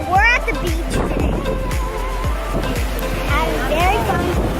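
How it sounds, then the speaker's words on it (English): Surf rolls and washes onto a black sand beach, a steady rushing roar of breaking waves close by with children talking over it. "So we're at the beach today."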